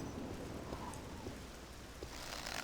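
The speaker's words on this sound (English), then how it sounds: "Oh, it's raining." Steady rain falls in the video game Morrowind, a dense, even hiss of drops filling the scene at constant loudness with no voices.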